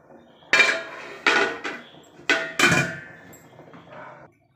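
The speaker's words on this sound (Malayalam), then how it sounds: "ഒന്ന് അടച്ച് വെച്ച് കൊടുക്കാം." A metal lid is set over a pot of boiling rice for ghee rice, giving several sharp close clanks and clinks in quick clusters, each ringing briefly before fading, with no talk.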